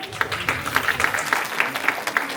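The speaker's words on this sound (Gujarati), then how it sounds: "ચાલો તાળી પાડો" Audience applause at a Tulsi Vivah wedding ceremony for the deity in a Hindu temple in Leicester: steady, moderately loud clapping from a crowd, with a few sharper claps standing out and faint voices underneath.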